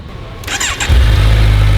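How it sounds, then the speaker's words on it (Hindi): Stock-exhaust inline-four motorcycle engine starting up close by: a brief starter whir, then the engine catches into a loud, steady, low idle rumble. "अब इनलाइन 4 की स्टॉक की आवाज़ सुना देता हूँ"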